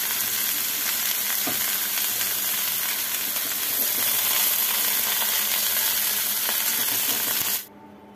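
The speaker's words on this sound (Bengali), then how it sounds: "এইভাবে ভেজে নামিয়ে নেব।" Potatoes and cauliflower frying in hot oil give off a loud, dense, steady sizzle with occasional stirring clinks, which cuts off abruptly near the end.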